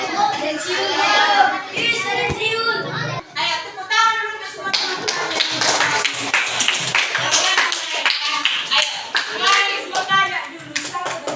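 Children in a classroom lesson clap for their classmates, a lively burst of applause that builds and continues to the end, mixed with a teacher's voice and children talking.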